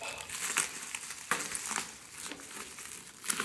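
Masking tape and plastic sheeting being pressed down by hand onto a car fender on an Integra project, giving a steady close crinkling and crumpling with a few sharper crackles, no talking.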